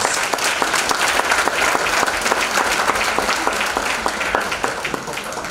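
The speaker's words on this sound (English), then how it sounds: "please join me in giving her another round of applause" A graduation crowd gives Judge Johnson sustained, loud applause, dense clapping from many hands that holds steady throughout before easing slightly near the end.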